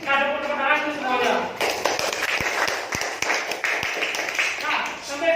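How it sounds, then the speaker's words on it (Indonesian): A class of young pupils clapping hands in a lesson, a quick irregular burst of claps with sharp individual slaps, following a stretch where a voice speaks. "tepuk tangan dulu semuanya"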